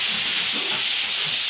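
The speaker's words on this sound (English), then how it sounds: "And so I always like to just sand with the grain." Sandpaper rubbed by hand across dried drywall joint compound, a steady close scratchy hiss with soft back-and-forth strokes and no talking.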